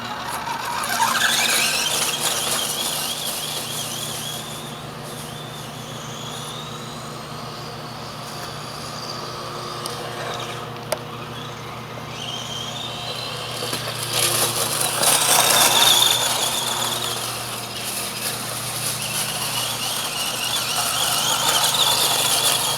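A 1:18-scale ECX Ruckus RC truck runs over backyard grass and then a street, its small electric motor whining steadily at high pitch, rising and falling as it speeds up around the middle and again near the end.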